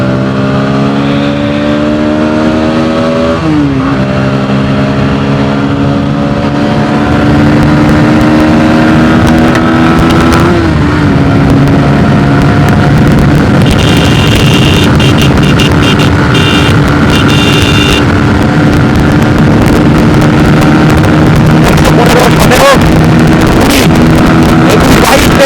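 A Bajaj Pulsar NS BS6 motorcycle is ridden at top speed, its loud engine climbing steadily in pitch through the gears, with a constant roar of wind close by.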